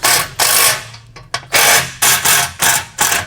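A socket wrench with a 9/16 socket tightening fender bracket bolts on a MicroSport off-road trailer, giving a run of quick, close ratcheting bursts in a steady back-and-forth rhythm with brief pauses between strokes.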